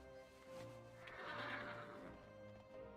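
A horse in World of Warcraft gives a single neigh, a clear rising and falling whinny peaking midway, heard alone and fairly faint against quiet game background.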